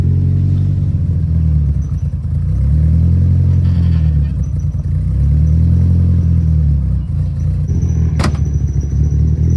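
A Nissan 240 engine idles loud and close, a steady low rumble that swells into two slow revs and settles back, with a brief sharp click near the end and no talk.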